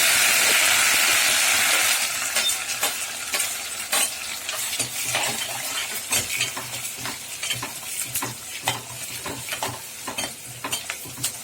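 Onions, green chillies and curry leaves hit hot oil in a pan, opening with a loud burst of sizzling that settles into steady frying, punctuated by repeated sharp scrapes and clinks of stirring, with no voices.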